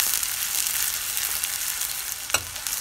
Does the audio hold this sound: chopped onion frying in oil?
yes